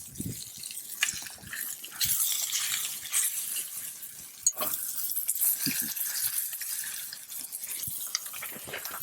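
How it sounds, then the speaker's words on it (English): Food sizzles and crackles steadily in a hot pan over a campfire, with occasional sharp pops and light scraping, close by and without talk. "Nice sizzle on that."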